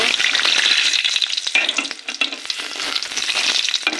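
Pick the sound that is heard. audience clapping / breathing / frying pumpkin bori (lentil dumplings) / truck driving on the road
frying pumpkin bori (lentil dumplings)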